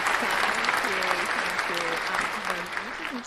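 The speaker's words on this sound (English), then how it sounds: "give a big applause for my co-host, Joanna." Applause from a crowd welcoming a co-host on an esports show, steady clapping throughout with speech-like voices over it.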